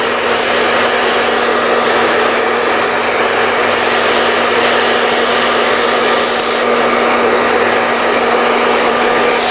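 A hair dryer runs continuously and loudly while blow-drying wavy hair during styling, a steady close whooshing roar with no break.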